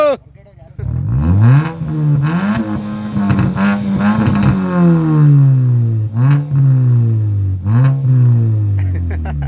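An off-road rally car's engine, its exhaust opened up, revs hard and close several times, rising and falling in loud surges that stay under a continuous throaty idle.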